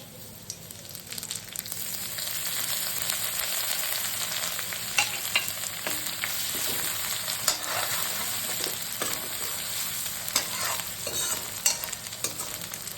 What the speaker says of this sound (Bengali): আদা দেবার আগে দেখো জিরে, রাঁধুনি, শুকনো লঙ্কা ফোড়ন দিচ্ছি আর গুঁড়ো তেজপাতা।